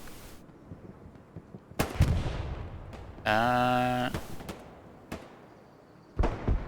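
Tank cannon fire in Hell Let Loose as one tank kills another: several sharp booming shots spaced apart, with a harsh sustained mechanical tone between them, moderately distant and set among faint battlefield noise.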